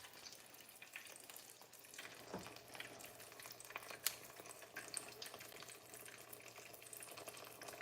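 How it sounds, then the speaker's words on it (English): A slice of green tomato fries in hot grease for Southern fried green tomatoes, giving a steady, moderate crackle and sizzle with a few sharper pops and faint clinks near the pan, no talking. "I'm just cooking it first just to make sure that our grease is good and hot"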